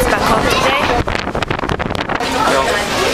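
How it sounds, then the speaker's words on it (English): Strong wind buffets the microphone in a steady roar, with a brief dip in the middle, over the rumble of a moving ferry to Gozo. "It's very windy."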